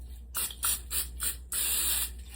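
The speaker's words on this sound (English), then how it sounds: "You're going to give it a good little spray here." Cooking spray from an aerosol can coating an 8x8 or 9x9 baking dish, heard as a series of short close hissing bursts followed by one longer spray.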